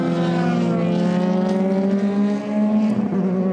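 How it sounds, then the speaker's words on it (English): A Euroformula Open single-seater race car accelerates hard out of the final corner at Paul Ricard, a loud, steady high-revving engine note climbing in pitch, close and continuous throughout. "Yanis Vitya accelerates through the final corner"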